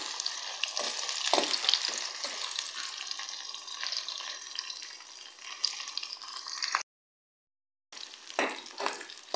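Two roughly chopped onions frying in a pan, a bright sizzling hiss with intermittent stirring scrapes and clatters, a brief silent gap before the sizzle resumes; no one talks.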